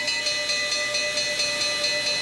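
Steam locomotive 6060 at a steam expo, hissing loudly and steadily as its driving wheels slip, with a rhythmic pulse of chuffs beating through the continuous high hiss.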